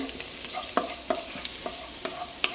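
Garlic frying in oil in a pan for a spicy chicken masala, stirred with a utensil that gives repeated sharp scrapes and clicks over a steady close sizzle, with no voices.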